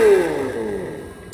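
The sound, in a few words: simulated engine sound from speaker on RC car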